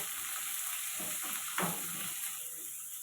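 Chopped ginger and garlic fry in a pan for masala rice, a close continuous sizzle with a few soft stirring knocks and no speech.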